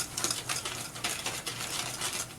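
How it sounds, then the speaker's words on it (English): A spatula scrapes pumpkin bread batter with melted coconut oil around the side of a mixing bowl, giving soft repeated scraping strokes at close range, with no talking. "Just scrape up against the side of the bowl."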